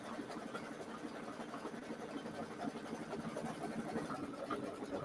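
An embroidery machine runs steadily while stitching a Turkey Trot trivet. Its fast mechanical whir is continuous and fairly close, with no talk over it.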